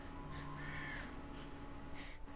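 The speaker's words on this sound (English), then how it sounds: "a bird's cry drifts from afar" A crow-like bird's cry rings out from afar in the video game Reverse: 1999, a few harsh caws over a quiet ambient bed with soft background music tones.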